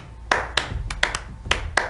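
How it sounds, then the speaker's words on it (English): One man clapping his hands during a web chat, six or seven sharp, close claps in an uneven rhythm over a quiet room. "David's clapping."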